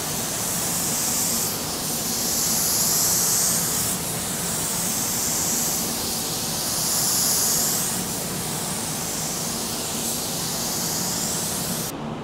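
Paint spray gun laying clearcoat passes, a continuous loud hiss that swells and eases in slow sweeps as the gun moves back and forth, with no talking.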